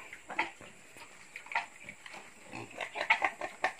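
A crossbreed pig, a village pig crossed with a Chinese pig, grunts and snorts in short, irregular bursts at close range, with soft squeals and rustling between them.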